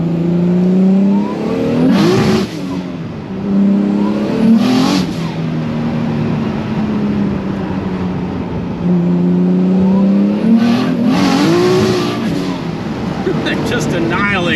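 A 2JZ-powered Nissan 240SX street car accelerates hard through several revving pulls, its engine note rising and falling loud and close, with turbo boost and tire-spinning runs mixed into a continuous roar.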